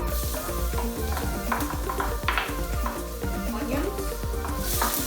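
Garlic hits a very hot pan for fried rice and sizzles loudly and continuously, with stirring scrapes and clinks of a utensil against the pan throughout.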